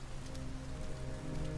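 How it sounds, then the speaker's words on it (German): Steady rain falls on surfaces in the video game Detroit: Become Human, a dense, even patter with a low hum beneath, continuous and moderately quiet with no talking. "Wieder mal im Regen."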